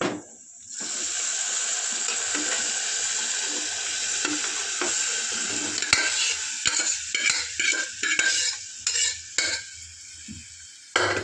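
Cooked mutton goes into a simmering gravy in a pan and is stirred, giving a steady sizzle under close scraping and clinking of a spoon against the pan. No one speaks.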